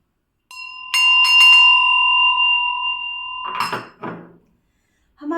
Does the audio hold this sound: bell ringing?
yes